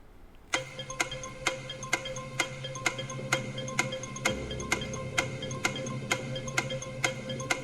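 Countdown clock in a VRChat Countdown game ticking at a steady pace of roughly one tick every half second, crisp and regular, with a low hum underneath and no talking.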